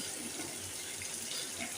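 Water pours steadily into a pan of rui fish curry with onions, a short continuous splashing rush heard close and alone.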